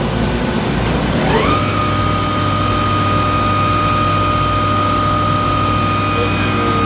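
Makino A55 horizontal machining center spindle running up to 6,000 RPM: a steady loud machine drone with a whine that rises in pitch and then holds constant, continuous over background hum.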